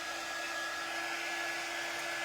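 A hair dryer blows a steady, even whoosh of air with a constant motor whine, drying fresh Mod Podge on a craft project, heard alone at moderate distance for a couple of seconds.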